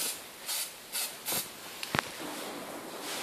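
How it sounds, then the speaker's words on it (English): Foliatec spray film hisses from an aerosol can in short, evenly spaced bursts, three brief sprays followed by a small click, then a softer, longer hiss, all close and loud against a quiet background. "Now we start with the second coat, having waited 3 to 5 minutes for the first coat to dry."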